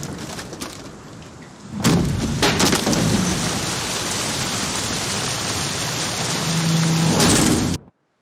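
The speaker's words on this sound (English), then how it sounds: "Didn't bargain for no storm." Heavy rain pours steadily in a stormy sea scene in The Witcher 3: Wild Hunt, with rumbling thunder swelling near the start and again near the end, loud and unbroken with no voices.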